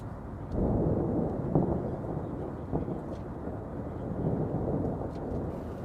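Thunder from a storm rumbling outside an airplane in flight, a deep, continuous low roar swelling and fading, with no talk.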